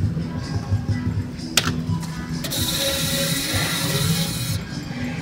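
Spinning reels on a Double Jackpot Blazing 7's slot machine whir and ratchet mechanically, with a couple of sharp clicks and a bright electronic ringing tone overlaid, close and fairly loud amid a noisy casino background.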